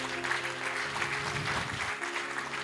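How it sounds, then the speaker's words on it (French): An audience in a university lecture hall applauds at a talk, steady close clapping from many hands throughout with a faint voice beneath. "vous pouvez l'applaudir."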